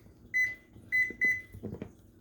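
Oven timer beeping as it is set for shepherd's pie: three bright electronic beeps, two close together after the first, loud and near, followed by soft handling clicks and taps with no talk.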